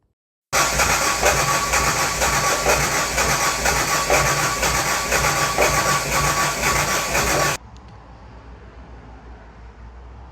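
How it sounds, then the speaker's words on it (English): A saltwater-powered boat engine cranks without catching, a loud, steady mechanical whirring that runs for about seven seconds before cutting off abruptly, leaving faint background noise. "I have tried to start the engine, no luck with"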